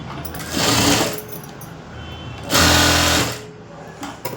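Sewing machine stitching a seam on a princess-cut lehenga blouse, running in two loud bursts of about half a second and a second each, separated by a quieter pause, with no talk over it.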